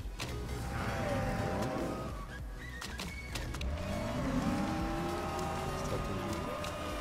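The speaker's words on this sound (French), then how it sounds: "Des pilotes qui sortent des stands et qui s'élancent pour aller tout de suite essayer la voiture." Race cars leaving the pits in the Motorsport Manager game: a steady layered engine drone with rising and falling whining tones as several cars accelerate away, continuous and moderately loud, no talk.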